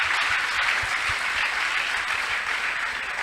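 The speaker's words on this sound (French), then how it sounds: "Est-ce qu'on peut acclamer pour cette belle initiative?" A talk-show audience applauds, a dense, steady wash of clapping hands that stays loud and even from start to finish.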